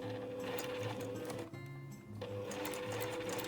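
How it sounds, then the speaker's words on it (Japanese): A home sewing machine stitches a patchwork flying geese block in a steady buzzing whir. It pauses briefly midway, then runs on at the same even pace, close and clear. "また端から端まで縫います。"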